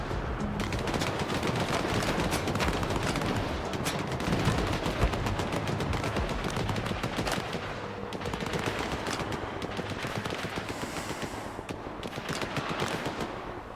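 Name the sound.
gunfire in video game S.T.A.L.K.E.R. 2: Heart of Chornobyl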